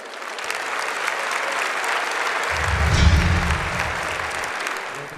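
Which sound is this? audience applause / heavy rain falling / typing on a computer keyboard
audience applause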